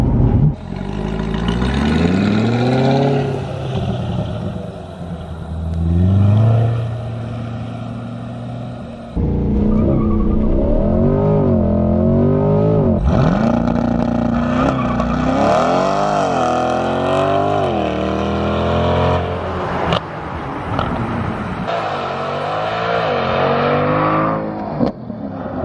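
A 2020 C8 Corvette launching hard from a standstill toward 60 mph, engine climbing through rising revs with gear shifts, loud and close, with a brief tire squeal and repeated runs.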